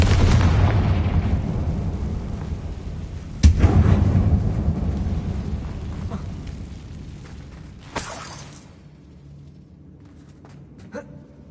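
Confringo spell explosions in Hogwarts Legacy inside an abandoned mine, a deep rumbling boom at the start followed by two sharper blasts that decay into low echoing rumble, growing fainter toward the end.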